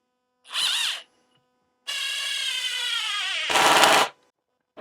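A Flex 24-volt cordless power tool runs in bursts: a short whirring spin-up, a pause, then a longer steady high-pitched drive that ends in a harsher, louder stretch before stopping.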